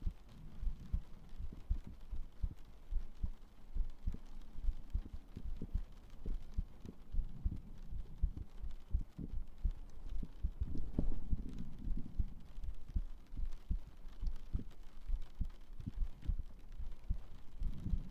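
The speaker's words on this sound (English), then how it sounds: "Can you hear the heartbeats or is it too quiet?" Heartbeat sounds play during a 3Dio ASMR stream as a soft, steady low thumping pulse that continues evenly throughout at a quiet level.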